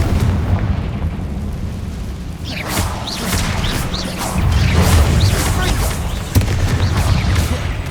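Confringo explosion spells in the video game Hogwarts Legacy, a series of booming blasts and bursts repeating over several seconds, with a voice shouting spell names over the action.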